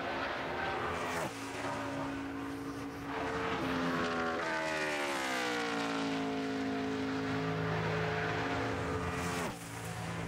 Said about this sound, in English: I just love listening to these engines scream at the end of these straightaways here at Indy